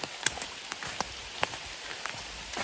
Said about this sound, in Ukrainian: Не думає капати, дощ рванув такий.